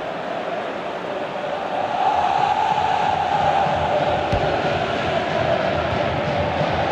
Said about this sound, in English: rightfully getting a good round of applause